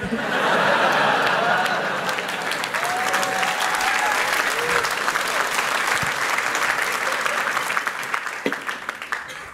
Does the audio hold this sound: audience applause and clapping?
yes